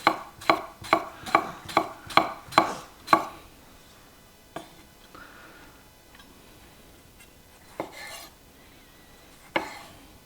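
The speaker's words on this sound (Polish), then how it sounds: "i kroimy pomidory dalej. Pokroję sobie w kostkę, taką troszeczkę grubszą." Knife chopping raspberry tomatoes into thick cubes on a cutting board, with a quick run of eight sharp, close chops followed by a few scattered single cuts after a pause.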